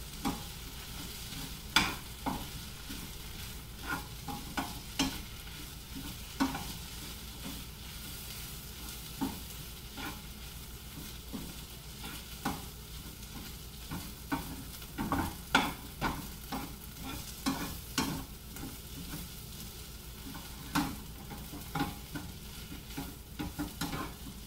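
A dry-roasted spice mixture is stirred into onions in a pan, the spatula scraping in repeated, uneven strokes over a low, steady sizzle, close and with no talking.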